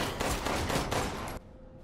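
Rapid gunfire in the Resident Evil Village horror game played in VR: a dense burst of close, loud shots lasting over a second, then cutting off abruptly into near silence.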